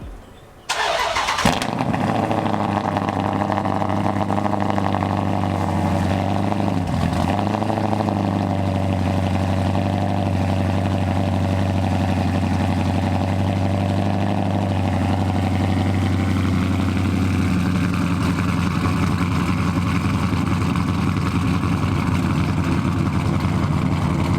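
A 392/426 Hemi car engine cranks briefly, catches and fires up, then settles into a loud, steady, close idle with a deep rumble that holds for the rest of the clip.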